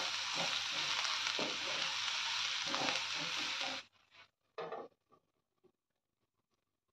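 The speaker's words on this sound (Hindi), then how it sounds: "मिक्स कर लेते हैं।" Kakoda (wild bitter gourd) sabji sizzles and fries loudly in a pan while being stirred, then the sizzle cuts off, leaving a few faint clinks and scrapes.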